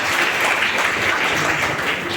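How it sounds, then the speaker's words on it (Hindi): A church congregation claps for a correct answer, a short burst of steady, dense applause that continues at an even level for the whole moment. "मुन्ना जी के लिए ताली मारेंगे क्योंकि सही बताएं"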